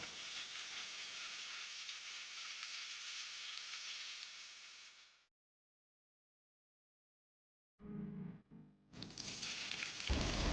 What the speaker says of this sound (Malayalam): അങ്ങനെ എല്ലാ ബ്രെഡും അതിൻ്റെ മുകളിൽ ആക്കിയിട്ട് ഇങ്ങനെ ഫ്രൈ ചെയ്തെടുക്കുക കേട്ടോ